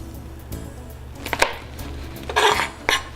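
A knife chops string beans on a cutting board, a few sharp, close taps and slicing strokes arriving in short irregular bursts with quiet pauses between.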